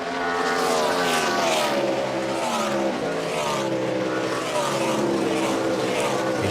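A NASCAR stock car roars at Watkins Glen during the 2012 Finger Lakes 355; the pole-sitting No. 42 car has something broken in the right front. Its loud, steady engine drone rises and falls in pitch with faint commentary underneath.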